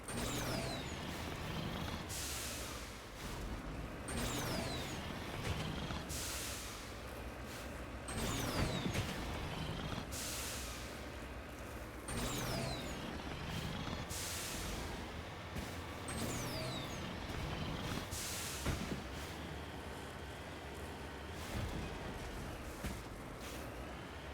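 A vehicle drives across an alien planet in Mass Effect Legendary Edition, a steady engine rumble with repeated hissing, air-brake-like bursts and mechanical clunks as it lurches along. The level stays constant and fairly close throughout.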